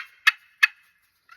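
Red slate turkey call played by hand, giving two short, sharp yelping clucks spaced evenly apart, then a softer trailing purr at the end, close and clear with nothing else heard.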